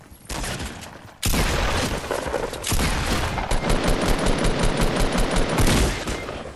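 Video game gunfire, starting with a short burst and then breaking into sustained, loud automatic fire with rapid repeated shots that continue to the end.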